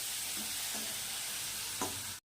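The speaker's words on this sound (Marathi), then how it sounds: "कोबी टाकलेली आहे तर याला मिक्स करून घ्यायचं तेलामध्ये" Washed cabbage is stirred into hot oil in a pan, a steady broad sizzle running throughout with a few soft scraping strokes of the spoon, close and fairly quiet, no voices.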